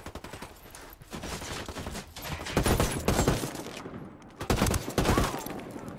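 Sniper and rifle fire in the video game Ghost Recon Wildlands, a run of sharp shots and bursts at close to mid range, some overlapping in quick volleys.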